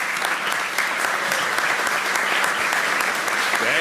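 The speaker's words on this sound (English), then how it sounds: "A clap for the retired chief." A city council meeting audience in Garfield gives a retired police chief a round of applause: thick, continuous clapping from many hands, loud and even throughout.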